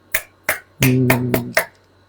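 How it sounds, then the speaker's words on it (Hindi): About five sharp, separate hand claps ring out close and loud during a church sermon, with a brief sustained tone humming beneath the middle claps. "तो ताली ऐसे बजती।"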